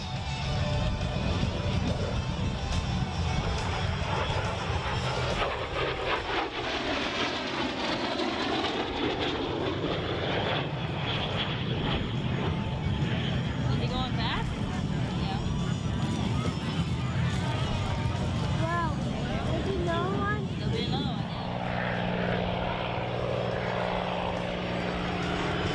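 Military jet making a high-speed pass at around 350 knots at the 2021 Great State of Maine Airshow in Brunswick, a loud continuous roar with sweeping pitch shifts, heard beneath steady commentary from an announcer.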